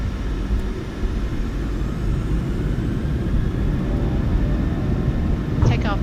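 Airliner jet engines in Microsoft Flight Simulator 2024 spool up to takeoff thrust, a steady loud low rumble and whir with a rising whine near the end.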